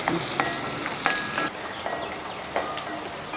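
Garlic, ginger and dried red chillies fry in a pan with a steady, close crackling sizzle, broken by a few sharper spatters and stirring scrapes.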